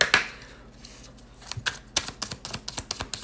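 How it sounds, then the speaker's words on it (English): Square oracle cards being shuffled by hand, after a quiet start a run of sharp crisp riffling clicks and slaps in quick uneven rhythm, close and fairly soft. "God, these are hard to shuffle."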